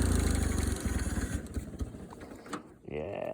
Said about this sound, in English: Yeah, this carburetor's acting up today.